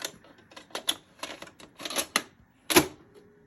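A 1982 RCA SelectaVision VCR takes in a tape with a run of sharp mechanical clicks and clacks, uneven at first then ending in one louder clunk, close and without talk.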